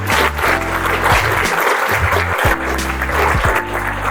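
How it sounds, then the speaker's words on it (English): An audience at a gala applauds steadily for about four seconds, the clapping loud and continuous over music with a deep, shifting bass line. "I want you guys to give them a big round of applause"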